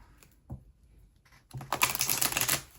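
A deck of tarot cards is shuffled close by: a few soft taps, then a dense, steady rush of cards rubbing and riffling for about a second and a half, with no talking.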